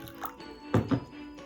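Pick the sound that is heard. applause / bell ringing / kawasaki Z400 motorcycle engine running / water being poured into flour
water being poured into flour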